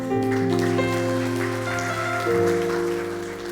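A church congregation claps for God during a sermon, a dense patter of applause mixed with sustained worship music from keys or organ.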